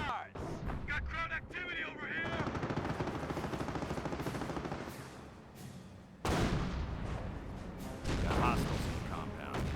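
Tank battle in the PC strategy game Company of Heroes, with a Panther tank under fire, anti-tank guns and a .30 cal machine gun: dense, loud gunfire and booming cannon blasts run throughout, with a voice talking over the fighting.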